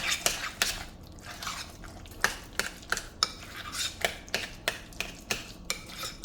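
A spoon stirs sauce into oven-baked barbecue chicken wings, giving a steady run of clinks and scrapes against the dish at a regular, brisk rhythm, close up with no talking.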